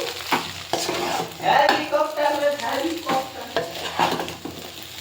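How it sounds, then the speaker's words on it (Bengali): Maggi noodles frying and being stirred in a pan, with close, irregular scraping strokes over a steady sizzle and occasional clinks against the pan. "অনেকদিন বাদে যখন ভেজে আবার ম্যাগি বানাচ্ছি"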